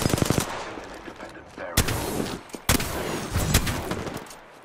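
Apex Legends gunfire crackles in rapid automatic bursts, with sharp, loud shots repeating over several seconds and short pauses between the volleys.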